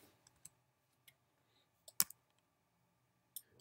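Computer arrow keys tapped to nudge a node in a graphics program, a handful of faint, sparse clicks spread unevenly, with one sharper click near the middle.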